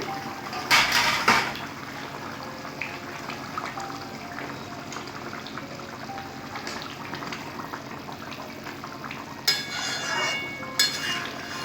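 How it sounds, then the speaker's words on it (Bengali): A lid comes off a pot of bata fish curry tempered with kalo jeera, with clattery bursts near the start and again toward the end over a steady simmering, bubbling hiss. No one speaks. "কিছুক্ষণ বাদে ঢাকাটা খুলে দেখছি"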